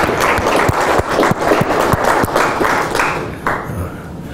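A small group claps in a brief, loose burst of applause that thins out and fades within a few seconds.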